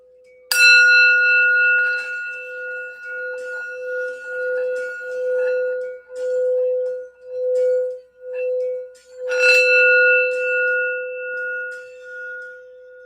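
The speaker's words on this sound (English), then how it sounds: "I'm gonna do a quick sound bell." A single bell is struck, ringing out with a long shimmering decay, then struck again later and left to fade slowly.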